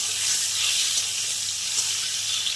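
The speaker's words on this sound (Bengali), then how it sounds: "আর ডিমটা আমি এবার ভেজে নেবো।" An egg frying in hot oil with turmeric in a pan, a steady bright sizzle and crackle heard close up and alone, with no talk.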